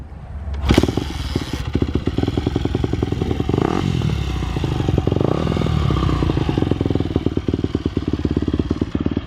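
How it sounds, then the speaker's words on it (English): A dirt bike engine runs loud and close after a single sharp start, settling into a rapid, popping idle with steady pulses and some clatter throughout. "Now that she got the bike started on her own, it's all warmed up"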